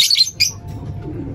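African lovebird, a green series bird, giving a few sharp high chirps close by, followed by quiet room sound.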